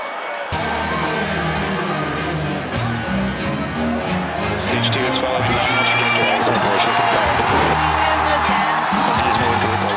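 Large crowd cheering and whooping in a SpaceX launch livestream, a loud, sustained roar of many voices that swells toward the end, with background chatter mixed in.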